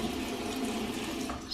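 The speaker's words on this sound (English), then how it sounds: "just place that scrubber under the water" Running tap water streams steadily into a sink as a face scrubber is held under it for skin and beard cleansing, a close, continuous splashing hiss with no talk.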